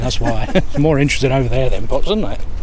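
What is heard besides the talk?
None of the usual background noises is heard.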